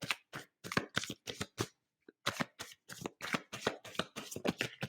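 Tarot cards being shuffled by hand in quick riffling bursts, a run of crisp bursts, a brief pause, then another steady series, close and fairly quiet with no talking.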